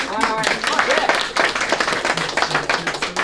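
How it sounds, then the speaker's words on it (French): Audience at a rap battle event breaks into steady hand clapping, close and lively, continuing for the whole stretch with voices mixed in. "On peut l'applaudir quand même."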